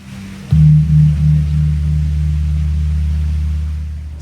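Car engine in Mauritius starting up with a low steady hum and rumble close by, holding level for several seconds before easing slightly, no voices.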